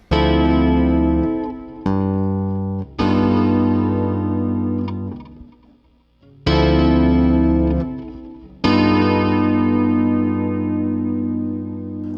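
A Chapman Stick plays heavy, sustained chords over deep bass notes, loud and distorted, with a brief quiet gap midway.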